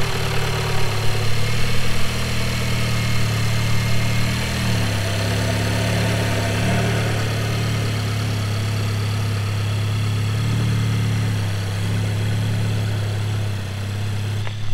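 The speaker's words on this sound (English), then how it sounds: "we're just going to start up the car" A VW/Audi 8V A3/S3 or MK7/7.5 Golf/GTI/Golf R engine idles steadily just after an oil change, a loud, even, close-up hum with a slight dip in pitch midway and no talking.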